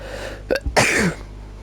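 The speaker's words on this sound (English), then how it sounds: "I'm going to sneeze." A single sharp sneeze, preceded by a quick intake of breath, close and alone.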